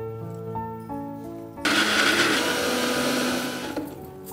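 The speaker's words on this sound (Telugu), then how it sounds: "మరీ మెత్తగా కాకుండా ఇలాగా గ్రైండ్ చేసుకుంటే" Mixer grinder coarsely grinding roasted onions and other ingredients, a loud sustained whirring roar that kicks in abruptly after a quiet opening with music, runs steadily for about two seconds, then cuts off.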